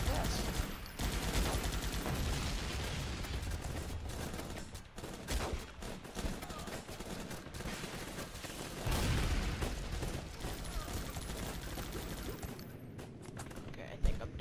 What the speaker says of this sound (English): But why are they shooting over there?